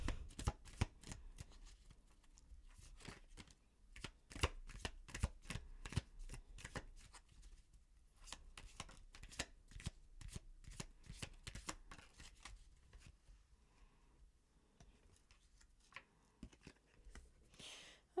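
A deck of tarot cards shuffled over and over, quiet crisp riffling and slapping bursts in quick irregular runs, with brief pauses between handfuls.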